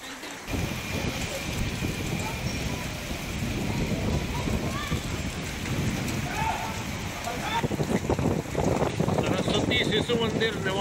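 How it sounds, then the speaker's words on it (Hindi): Heavy rain mixed with falling hailstones pours down steadily in Mandla, a dense continuous roar with scattered hard impacts that grows busier toward the end, with faint voices underneath. "ओले गिर रहे हैं।"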